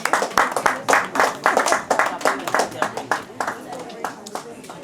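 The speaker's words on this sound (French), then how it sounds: "De la part de notre famille, est-ce que vous pouvez applaudir" Guests at a traditional Congolese wedding clap together in a loud, fairly rhythmic burst of sharp, close handclaps, with voices chattering underneath.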